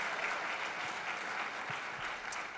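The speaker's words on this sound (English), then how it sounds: "Why don't we give Kate another quick welcome, round of applause." Audience applause welcoming guest chef Kate Bracks, steady and dense throughout, a full room clapping at moderate distance with no voices over it.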